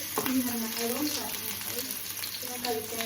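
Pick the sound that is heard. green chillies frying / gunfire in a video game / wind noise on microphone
green chillies frying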